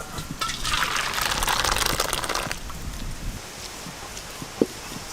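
Well-boiled dal being poured out, a soft watery gush lasting around two seconds at a moderate, close level, followed by a quieter background and a single small knock.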